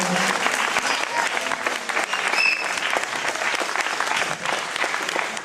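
An audience at a children's theatre play claps warmly in a continuous, even round of applause, with sustained, full-bodied clapping throughout and no break.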